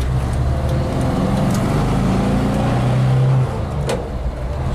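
A car engine hums steadily while driving and running up through the gears, its low drone rising and then easing off as a shift comes, heard from inside the cabin with road noise and no talking.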